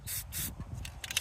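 Short hissing bursts of an aerosol spray paint can sprayed onto card, several quick sprays separated by brief pauses.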